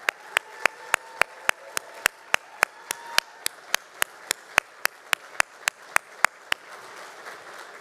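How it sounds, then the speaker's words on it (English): In an indoor district gathering, sharp, evenly spaced claps ring out about three times per second in a steady rhythm. They sound more like a few hands than a full crowd. "You deserve a huge round of applause."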